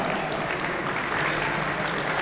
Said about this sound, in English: a big round of applause for our honorees